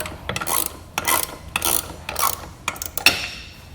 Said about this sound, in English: You can use a 13mm wrench to tighten down the base.